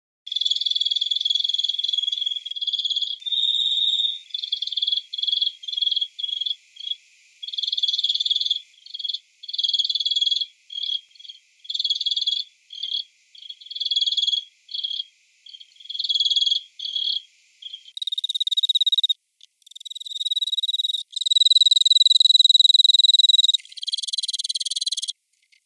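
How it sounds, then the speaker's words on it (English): Recorded calls of several different crickets play one after another: high, steady trills and rapid pulsed chirps, with a shriller, brighter call near the end, each clear and alone. "a bit of a soundbite to show the difference in the cricket calls"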